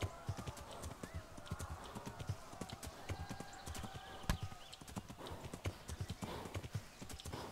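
Hooves clip-clop in a fast, steady rhythm as a horse gallops in Kingdom Come: Deliverance, with an occasional whinny and faint voices behind.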